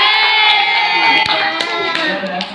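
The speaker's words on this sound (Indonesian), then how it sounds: "Oke, kasih tepuk tangan." A group of children claps and cheers indoors, a dense burst of hand claps mixed with excited shouting and voices, close and loud for a couple of seconds.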